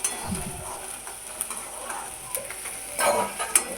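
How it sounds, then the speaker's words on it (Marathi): Onion sautéed in a pan for a spicy bhurji gives a soft, continuous sizzle, with a few light stirring scrapes that grow busier near the end of a short stretch. "कांदा परतला की नाही आपण ते चेक करत कांदा परतत राहायचा"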